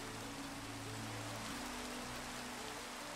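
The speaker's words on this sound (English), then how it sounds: "I heard the rain and I looked up to the sky" Steady rain falling in the game Minecraft, a dense continuous hiss of drops with no voices, even and unbroken throughout.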